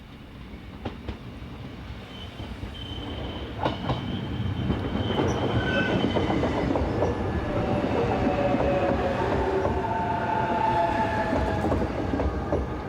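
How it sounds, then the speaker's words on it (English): A class 5600 electric locomotive hauls a container train bound for Entroncamento, approaching from a distance and swelling into a loud, continuous rumble of wheels and wagons with metallic squeals and clicks as it passes. "Taking the northern spur is this class 5600 electric on a container train bound for Entroncamento."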